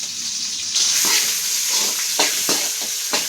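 Long-sliced onions hit a hot pan and set off a sizzle that swells partway through, with several sharp stirring scrapes over the steady hiss.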